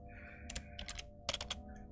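Computer keyboard keys clatter in two quick bursts of typing, close and fairly quiet, with faint steady background music.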